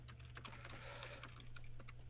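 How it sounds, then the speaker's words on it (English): Quiet, close clicking of computer keyboard keys in quick irregular bursts, faint and with no talk over it. "I was typing away"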